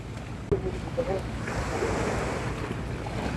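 Sea waves washing onto the shore in Palawan, a steady broadband wash with wind buffeting the microphone. There is a small bump near the start.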